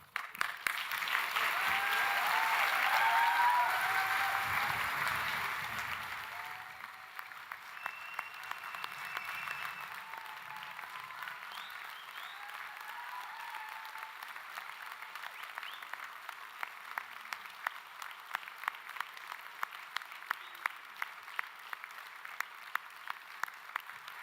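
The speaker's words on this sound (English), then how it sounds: "tremendous round of applause to get us started off today" Sustained applause from a graduation ceremony audience fills the hall, loud at first, then thinning to steadier, scattered clapping that continues to the end.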